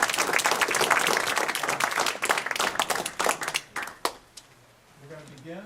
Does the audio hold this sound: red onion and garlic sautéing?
no